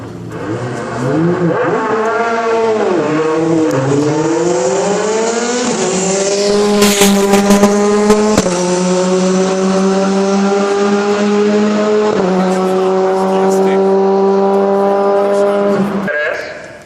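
Lightweight Praga race car, 550 kg and 220 horsepower to the rear wheels, screaming loudly up through several gears with sharp pitch drops at each shift, bursts of crackle mid-run, and a high, sustained wail before cutting off.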